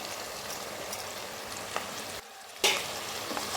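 Chicken and fig curry sizzles loudly in a pan over low heat as spices are mixed in. The steady, close frying hiss dips briefly to near quiet, then returns.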